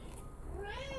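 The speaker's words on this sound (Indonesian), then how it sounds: "Itu kucing aku ya panggil anaknya yang baru lahir tahun baru kemarin" A mother cat calls out for her newborn kitten hidden under a bed, giving a single short, rising meow that swells near the end, close and clear with no talking.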